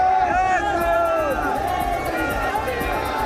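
A crowd gathers around Dhirendra Shastri's convoy on a road in Bihar, a steady dense hubbub of many voices with faint chanting tones and shuffling, loud and close throughout.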